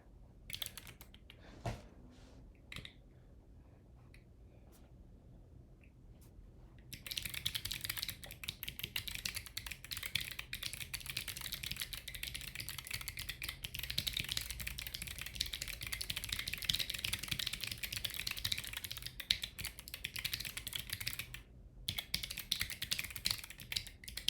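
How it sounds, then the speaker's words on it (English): Steady, fast typing on a computer keyboard at a home coding setup, near and continuous for most of the stretch, preceded by a few quieter, isolated key taps with no talking. "I feel like I need to dial in my keyboard."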